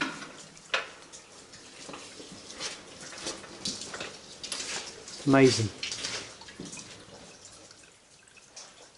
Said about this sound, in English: That constant water coming through, we can hear that.